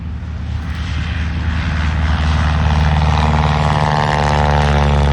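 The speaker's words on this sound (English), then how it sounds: "Of his fantastic Model 75 Stearman biplane." A Stearman Model 75 biplane's radial engine and propeller run at an aerodrome, giving a steady, loud, rumbling drone with a throbbing beat that builds slightly and then holds, with no voices over it.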